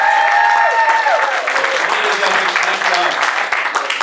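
An audience at a Miami startup meetup breaks into loud, sustained applause, with some voices and cheers rising above the clapping throughout.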